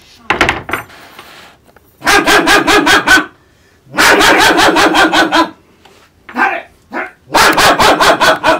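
A dog barks loudly and close in rapid volleys, with repeated bursts of several barks separated by short pauses and a brief human voice between them.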